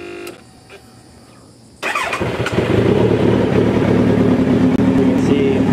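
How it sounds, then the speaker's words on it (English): A Kawasaki Z1000 motorcycle cranks and fires up after a quiet pause, then settles into a loud, steady idle with a throaty rumble. "Let's turn the bike on."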